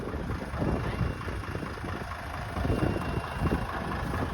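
A tractor engine runs steadily under load, straining to pull a vehicle stuck deep in mud; the low rumble stays loud and continuous throughout.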